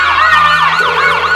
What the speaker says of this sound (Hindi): इनको सुनाई देता है पुलिस का सायरन